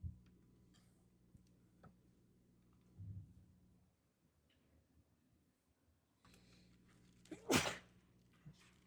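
A single sharp sneeze rings out near the end in a quiet room, preceded by faint ticking and low background hum.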